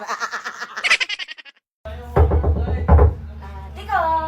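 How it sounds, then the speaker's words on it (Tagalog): A door is knocked on indoors, two or three dull, heavy thumps a second or so apart, fairly close. A croaky, vocal sound comes before them, and a voice starts right after. "Kanina pa kumakatok to."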